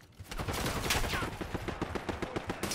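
Rapid gunfire crackles in Call of Duty: Black Ops 6 multiplayer, with dense shots blending into a roar before breaking into distinct repeated cracks toward the end.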